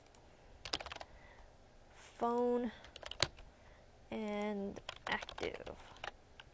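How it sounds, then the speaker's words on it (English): Typing on a computer keyboard while coding, heard as soft scattered clicks spread through the clip, interrupted by two short tonal bursts. "A lot of typing."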